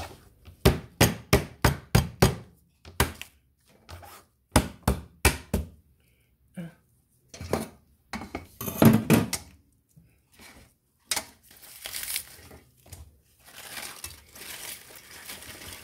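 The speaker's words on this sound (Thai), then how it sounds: "ทุบหอมก่อนหน่อยก่อนพี่น้องลืม" Shallots being pounded to crush them for a Thai vegetable dish, sharp heavy thuds at close range, a fast rhythmic run followed by scattered knocks and scraping, with no talk.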